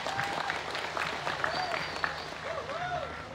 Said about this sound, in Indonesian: saya minta tepuk tangannya untuk masyarakat Tegal semuanya